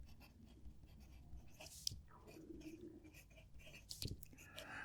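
Nib of an Asvine medium-nib fountain pen scratching across paper on a cushioned notepad, soft continuous strokes with a few sharper ticks, close and quiet.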